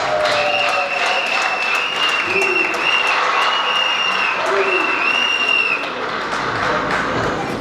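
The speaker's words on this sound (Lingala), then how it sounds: "Avec des applaudissements, bien sûr." Applause rises from guests at a wedding reception, a steady wash of clapping mixed with sustained tonal voices or music running over it.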